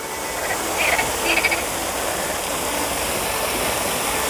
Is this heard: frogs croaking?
yes